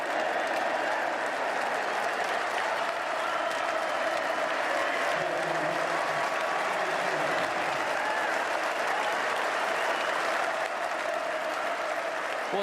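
A Lord's Test crowd at England v West Indies gives sustained warm applause as Jimmy Anderson walks out to bat, a steady distant wash of clapping with faint crowd murmur underneath.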